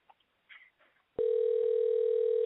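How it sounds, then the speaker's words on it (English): A telephone line plays a steady, unbroken electronic tone after a few faint clicks and bits of handling noise. The tone starts abruptly and holds at an even level to the end. "I'm going to dial up the phone"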